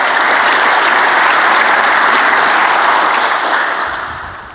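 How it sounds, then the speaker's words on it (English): A keynote audience breaks into a full round of applause, loud and dense throughout, then tapering off slightly toward the end. "So a round of applause for everyone who's come out today."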